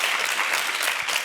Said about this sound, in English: a big round of applause for Peter as well